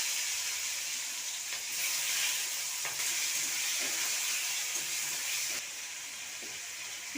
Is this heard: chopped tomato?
yes